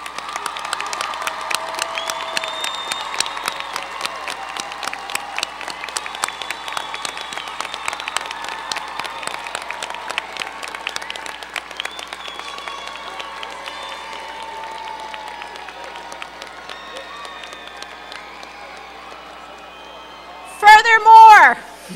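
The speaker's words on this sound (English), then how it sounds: "We now salute you and ask that you stand for a well-deserved round of applause" Standing applause fills a university commencement ceremony hall for the College of Humanities, a dense sustained crowd clapping with scattered cheers that gradually thins, ending in a brief loud burst of handling noise.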